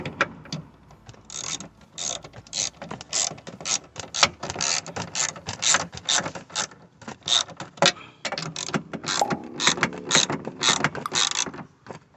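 Ratchet wrench tightening bolts on the rear window regulator of a 2002–2006 Cadillac Escalade, a close, dense run of rapid clicking bursts with short pauses between strokes.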